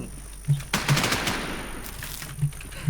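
Gunfire in the video game Infestation, a burst of several sharp shots with a couple of isolated pops following, close and loud.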